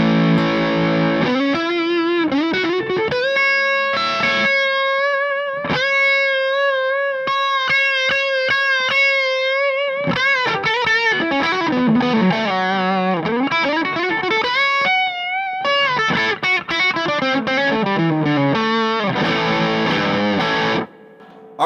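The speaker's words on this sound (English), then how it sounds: "That's a nice, just a cool stacked overdrive sound." Electric guitar played through stacked King Fuzz and 805 overdrive pedals, a saturated, sustaining distorted tone with melodic runs and held notes, loud and close, playing continuously without talk.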